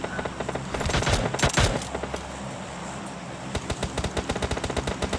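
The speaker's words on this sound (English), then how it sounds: "They're still involved in this building gunfight here." Rapid automatic gunfire crackles through a building gunfight in a video game, bursts of shots rattling in quick succession with a louder cluster early on, fairly distant and moderately quiet.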